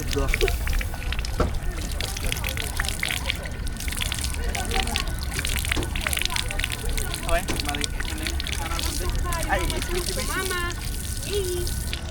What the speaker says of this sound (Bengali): ইতালিতে প্রত্যেকটা জায়গায় এরকম সরকারিভাবে পানি সিস্টেম এবং এই পানিগুলো অনেক ঠান্ডা হয়